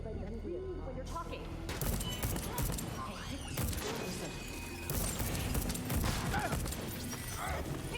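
Automatic turret fire in the video game Deathloop, a run of rapid bursts that comes and goes across the moment, with clattering mechanical noise mixed in.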